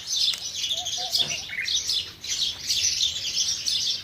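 A busy flock of house sparrows chirps steadily and continuously, the overlapping high tweets layered together with no voices.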